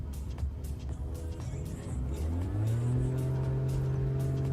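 Propeller aircraft engine in Microsoft Flight Simulator 2020, a steady loud drone that climbs in pitch partway through as power builds, with no talk over it.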